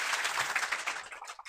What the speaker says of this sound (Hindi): भाई, ताली बजाओ भाई जोर से भाई।